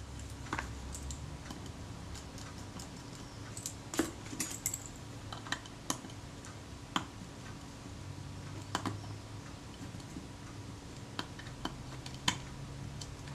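Small screws being tightened on a Kodak Retina IIIC camera, with faint scattered metallic ticks and clicks from a screwdriver over a quiet background hiss, close and sparse.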